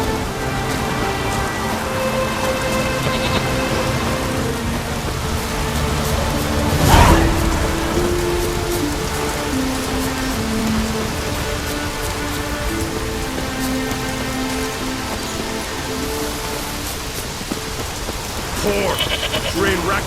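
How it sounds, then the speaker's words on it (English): Rain falls steadily in The Witcher video game, a continuous wash of patter across the whole stretch with game music tones underneath and a brief louder swell partway through. "Looks like rain."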